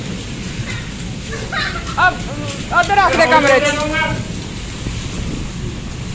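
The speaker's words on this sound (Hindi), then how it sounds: "बहुत बारिश हो रही है।" Steady rain hisses in the background while people talk nearby.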